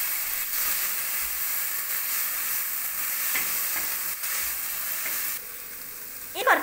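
Chicken noodles are stirred in a hot pan with stock added, giving a close, steady sizzle and hiss with occasional scraping of the utensil, and no talking.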